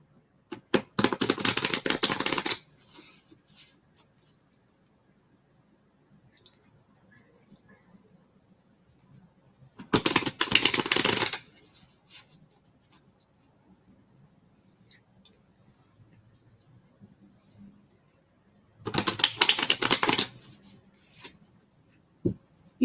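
Playing cards shuffled three times during a card-reading lesson, each a brisk riffle of a couple of seconds, close and crisp, with long quiet gaps between.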